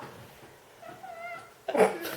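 A cat meows indoors: a thin, faint mew, then a louder, harsher meow near the end, with people chatting nearby.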